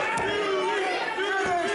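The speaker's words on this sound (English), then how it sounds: "This crowd trying to get behind Dewey," Wrestling crowd at a PPW PowerSlam TV event chatters and murmurs steadily behind a rear chin lock in the ring, with a couple of sharp thuds, voices blending into a continuous hum.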